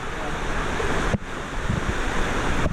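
A river runs past a waterfall at a tourist spot, filling the air with a steady, loud rush of water and some wind buffeting the microphone.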